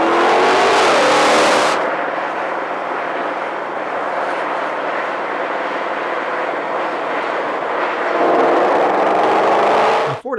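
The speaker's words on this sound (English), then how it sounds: "the GT500, Ford engineers have really gone the extra length to tune this engine so it just sounds amazing" A Ford GT500 V8 engine roars loudly and steadily, with a brief lull after the opening rev before it swells again near the end and cuts off abruptly.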